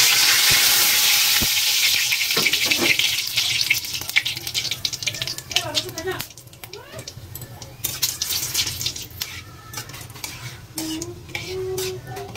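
Hot oil hisses loudly as cumin, bay leaf and dried chilies go into the pan, then settles into a sizzle with stirring scrapes and pan clatter while someone talks.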